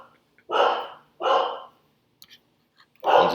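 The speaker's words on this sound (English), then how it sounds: "my dogs are barking at something." Dogs barking indoors in a home, three loud bursts of barking spaced about a second apart, with short quiet gaps and a few faint small sounds between them.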